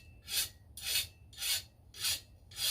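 Five slow, even rasping strokes of a hard chainsaw sharpening file dragged across a machete's edge, each one close and distinct with short pauses between.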